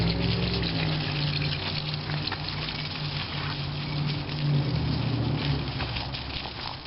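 Garden hose water spraying down a compost pile at home, a steady continuous hiss and rush of water with a low rumbling undertone, fairly close and constant throughout without talk.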